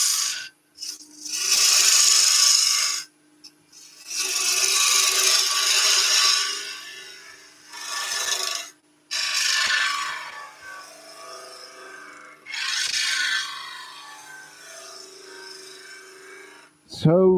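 A woodturning tool cuts a wood spindle on a lathe with its bevel rubbing, giving loud, close, sustained rasping swishes in several long passes separated by short pauses, with a steady motor hum underneath.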